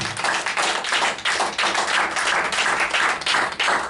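A church congregation claps in steady rhythm to acclaim the Lord during worship, with dense, continuous hand claps filling the room at a lively, even pace throughout.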